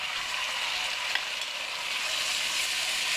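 Chicken sizzles in a hot pan for noodles, a steady, fairly close frying hiss with a faint clink partway through and no talking.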